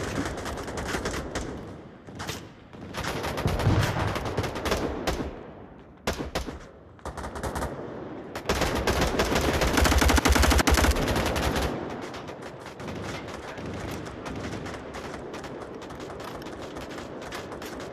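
Rapid automatic gunfire in the VR shooter Onward, loud bursts of machine-gun fire starting and stopping in clusters, with one long sustained volley midway and softer shots trailing off after.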